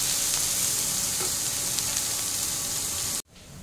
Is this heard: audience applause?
no